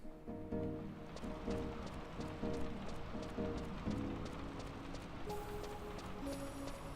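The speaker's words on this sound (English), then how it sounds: "I'm loving the rain sounds." Steady rain patters in the background of Final Fantasy XI beneath a rhythmic clip-clopping beat and soft melodic tones, a continuous ambient wash with no talking.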